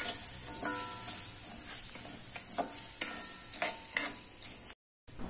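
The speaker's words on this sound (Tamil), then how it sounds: "இப்போ ஃப்ளேம் வந்து மீடியமா வச்சு இந்த அரிசியை நம்ம வறுத்துக்கலாம்." Black kavuni rice dry-roasting in a pan over a medium flame, stirred with a spoon that scrapes and clinks against the metal in irregular strokes over a soft, steady sizzle, close and fairly quiet with no talking.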